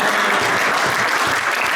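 A church congregation breaks into applause in praise of the word of God, a dense, steady wash of many hands clapping throughout, loud and close with no voices rising above it.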